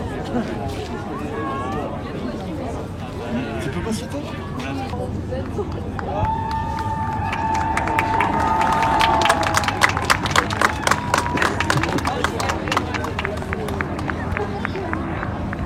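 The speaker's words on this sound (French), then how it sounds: "Et alors tout le monde les applaudit et tout." An onlooking crowd applauds people stranded by the high tide during a flood. Chatter and calls build into a steady run of clapping over the second half, with voices talking throughout.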